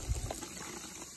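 Water gushes steadily into a dog bowl at close range, a soft continuous pouring that stays fairly quiet throughout.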